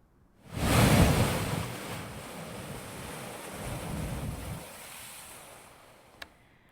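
Strong gusty wind and sea waves on the Kakinada coast during a storm, a loud rushing roar of surf and wind buffeting the microphone that swells, eases and swells again before fading.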